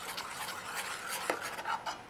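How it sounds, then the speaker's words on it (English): A spoon slowly stirs melting butter into a butter chicken sauce, making soft repeated swishes and faint scrapes against the pot, with a couple of light taps, all quiet and close. "We want to just slowly stir it. Now I'm using a spoon."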